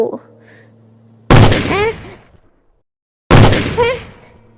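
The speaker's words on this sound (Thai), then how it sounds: "ทันใดนั้น ทั้งสอง ได้ยินเสียงปืน" Two sharp gunshot bangs roughly two seconds apart, each followed by a voice, with a faint low murmur before the first.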